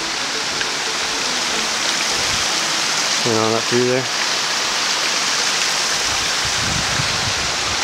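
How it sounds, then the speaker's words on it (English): A creek runs right beside a trail, its broad steady rush of water filling the whole stretch, with someone speaking briefly over it. "the creek's running right beside here"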